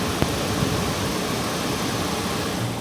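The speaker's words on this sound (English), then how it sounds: "this car is running, burning up the people's gas inside this car" A parked, unattended police car sits idling with its engine running, a steady broadband rumble heard up close with no talk over it.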